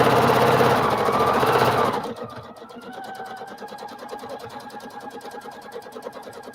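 A sewing machine stitches small free-motion loops on fabric, a rapid, even mechanical chatter close by. A louder, broader noise covers the first two seconds before the stitching runs alone.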